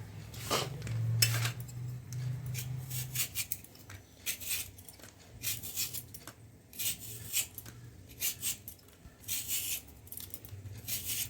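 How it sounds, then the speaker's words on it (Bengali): Potatoes are peeled and cut with a knife in a home kitchen, giving light scraping, clicking and tapping strokes in an irregular rhythm against a faint background hum, close and fairly quiet. "আলুটা ছাড়িয়ে কেটে নেব"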